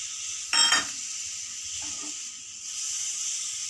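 Milk poured slowly into white sauce in a pan while it is stirred over a low flame, a brief splash followed by a steady soft sizzle and faint scraping, close up.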